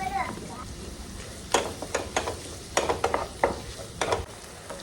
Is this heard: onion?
yes